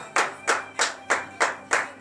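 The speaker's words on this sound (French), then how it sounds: "donnez de vives acclamations à l'Éternel, le Seigneur Jésus" Six slow, evenly spaced claps from a church congregation at morning prayer, each a sharp burst that fades quickly, steady in rhythm with no talking.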